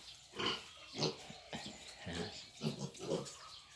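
Fattening pigs about 32 days old in a pen on a pig farm, grunting and squealing in a run of repeated short bursts, close and fairly loud, with no talk.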